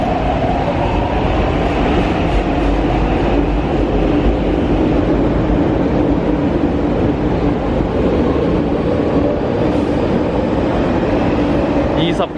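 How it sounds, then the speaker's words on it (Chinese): An MTR Tuen Ma line train runs through Tai Shui Hang station without stopping, giving a loud, steady rumble and rail roar that lasts throughout, with faint clatter and no talk. "后面有一架车经不停站啦"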